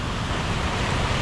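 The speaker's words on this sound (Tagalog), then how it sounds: "Grabe yung bugso ng hangin" Strong typhoon wind gusts roar across a campsite, a dense, continuous rushing noise buffeting the microphone with no voices.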